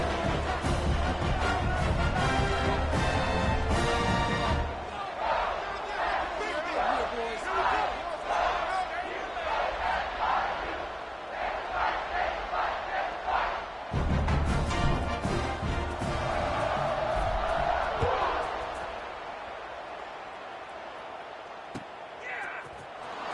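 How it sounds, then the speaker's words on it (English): Football stadium crowd roaring and cheering just before kickoff following an extra point, a loud sustained wash of noise that dips and surges, with a commentator talking over it. "They're set to kick it off, and this crowd now ready to get behind them."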